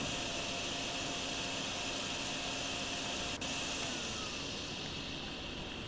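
Wet vacuum sucking up water in Drain Sim: a loud, steady, broadband whooshing drone that holds unchanged throughout, with no talk over it.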